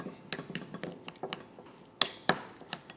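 Potato mixture with salt and sour cream being stirred in a bowl, utensils knocking and clinking against the bowl in quick irregular taps, close and fairly sharp, no voices.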